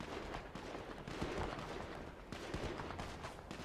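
Rapid bursts of gunfire from a GTA V shootout crackle in a dense, continuous barrage, loud and close, with no clear pauses between shots.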